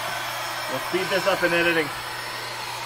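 An electric air pump inflates a Millennium Falcon pool float, its steady loud motor whine droning close by throughout while a person speaks briefly over it.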